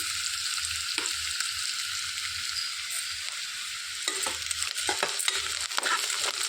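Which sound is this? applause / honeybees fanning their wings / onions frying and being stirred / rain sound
onions frying and being stirred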